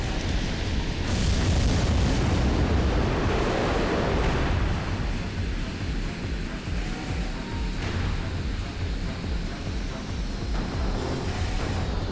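Rocket launcher blasts from Armored Core 3 erupt as a heavy, rumbling roar of explosions, loudest early and then settling into a sustained booming wash with debris noise continuing throughout.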